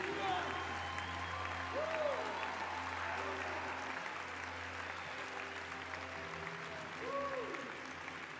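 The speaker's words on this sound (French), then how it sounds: "Keep clapping if you see someone coming down" Steady applause from a large church congregation, filling the space continuously with a few voices and tonal sounds rising faintly through it.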